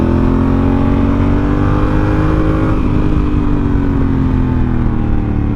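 A Honda Africa Twin motorcycle engine drones loud and close, holding a steady high-revving pitch that dips briefly midway before climbing and winding up again, with no talking.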